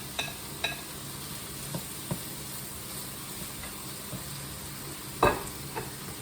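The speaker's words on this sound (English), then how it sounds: "The vegetables are cooking nicely now. Here's the chopped meat that I'm just going to pop back in" Vegetables and chopped meat sizzle together in a pan, a constant close frying hiss broken by occasional clicks and scrapes of stirring, one sharper knock near the end, with no voices.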